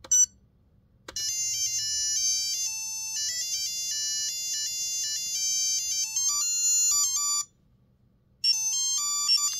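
Beeping electronic game sounds come from a Tiger handheld Darkwing Duck LCD game, loud chirpy square-wave melodies and blips running continuously, dropping to near silence briefly before starting again.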